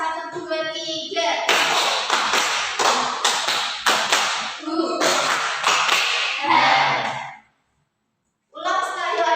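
A class of children claps the combined 'tepuk semangat' rhythm, with repeated groups of loud, sharp hand claps. Chanting voices run through the claps, then the room falls briefly silent before the voices return.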